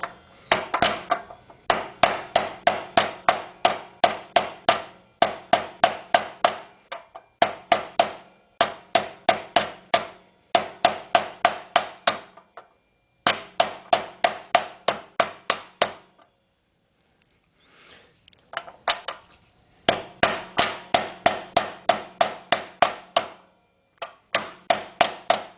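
Sharp metallic hammer blows drive a steering bearing race into the steering head of a Kawasaki KZ650 frame, struck in quick bursts of several hits with short pauses between groups, close and loud with no talking.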